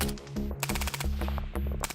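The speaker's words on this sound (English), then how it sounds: "Their gunfire is trained towards the sky, where one of their greatest adversaries approaches" Ukrainian soldiers fire their guns skyward at an approaching drone, loud rapid bursts of gunfire cracking in quick uneven volleys, close and alone.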